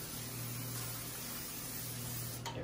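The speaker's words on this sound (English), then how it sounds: "Matter of fact, let me spray that." Cooking spray sprayed onto a nonstick pan, a steady faint hiss lasting a couple of seconds before stopping, with no talking.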